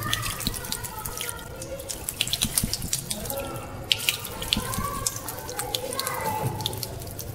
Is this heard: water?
yes